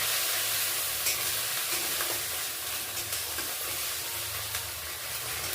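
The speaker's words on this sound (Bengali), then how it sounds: "একটু ভালো করে এটা কষে নেব টমেটোটা" Tomato with chilli and turmeric powder frying and stirred in a pan for a lobster curry, a steady close sizzle with faint scrapes throughout.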